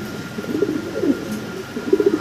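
A fancy pigeon coos in soft, low, throaty bursts, several close calls rolling one after another over a quiet background.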